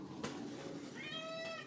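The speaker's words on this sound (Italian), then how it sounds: "Anche Gatto Denver ve lo dice" A cat meows indoors on a rainy day, a couple of short, close, moderately loud mewing calls with rising tonal harmonics, over soft room noise and no talking.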